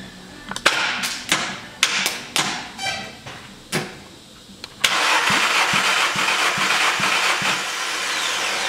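Volkswagen Golf Plus 2010 with 1.2 turbo 8-valve CBZB engine, first a series of tool clicks and short bursts, then the starter cranks steadily and loudly during a compression test on the first cylinder, with rhythmic pulses under the whine.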